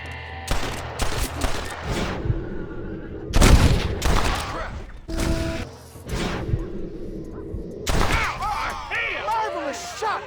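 Gunfire in Red Dead Redemption (2010), a rapid run of loud close shots and bursts over about ten seconds, mixed with shouted voices and a whoosh, ending under someone talking.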